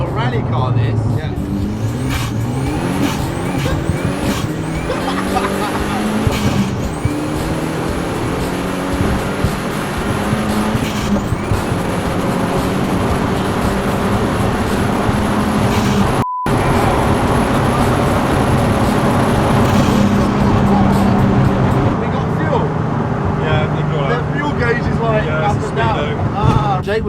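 Interior engine and road noise from a VW Polo with a swapped SEAT Cupra R 1.8T 20V turbo engine under hard acceleration, with repeated rising revs and gear changes over a steady road rumble and frequent talk from the occupants.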